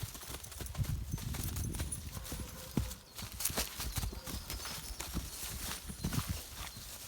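Close hoofbeats of a mare clop irregularly over a rumbling outdoor background, with a louder knock partway through and more scattered steps after.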